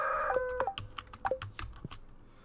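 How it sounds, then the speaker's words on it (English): Chicken clucks and rooster-like calls from the Stardew Valley farming game, a few short bright bursts spaced irregularly over a couple of seconds, moderately loud with no talking. "I like how we hear the chicken noises even though we clearly don't have chickens yet."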